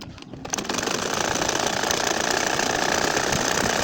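An ordinary sewing machine stitching a nakshi kantha quilt starts up after a short quiet moment and then whirs in a fast, steady, even rhythm, loud and close, with no voices.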